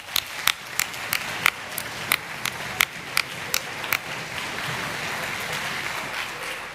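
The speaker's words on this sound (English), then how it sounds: "how about a big round of applause for all 3 middle schools?" Audience applause for three middle school orchestras at a high school concert: a run of sharp, evenly spaced claps stands out at first, then gives way to a softer, diffuse wash of crowd clapping.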